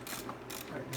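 Tightening a bolt with a washer on a Jeep Wrangler JK Redrock cold air intake gives close mechanical ratcheting and clicking through a short burst.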